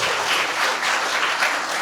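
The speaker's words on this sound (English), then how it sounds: "First of all, we should clap for that." An audience applauds during a felicitation for actress Varalaxmi Sarathkumar at KL University, a dense, steady wash of many hands clapping close and loud, with no talk over it.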